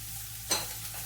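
Snake gourd being sautéed in a pan for a drumstick curry: a low steady sizzle and hum, then one short scrape of a spoon against the pan midway.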